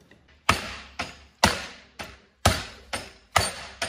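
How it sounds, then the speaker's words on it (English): Sheet metal is hammer-formed with sharp, ringing metallic blows, seven in an irregular rhythm, each decaying briefly, close and loud with no talk. "I'll hammer out the other side and tack them together."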